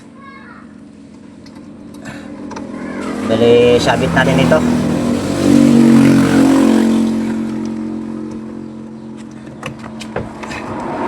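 A household spin dryer with a faulty motor spins up and runs, a rising hum and whir that swells in the middle and then settles, heard beneath someone talking.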